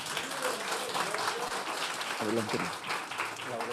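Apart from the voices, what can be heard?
applause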